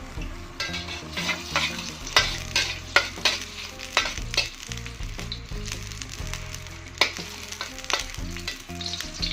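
Chopped shallots sizzle steadily in hot oil while a utensil scrapes and clacks against the pan in irregular stirring strokes, close and clear.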